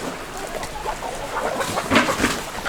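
Chickens clucking in a winter farm barn where they share bedding with pigs, a steady murmur of soft clucks and scratching rising to a few louder calls near the end, no talk.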